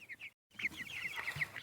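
Cornish Cross meat chickens clucking in a brooder, a quick series of soft chirpy clucks and peeps repeating close to the microphone, with a brief silent gap near the start.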